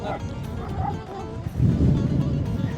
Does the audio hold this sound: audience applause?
no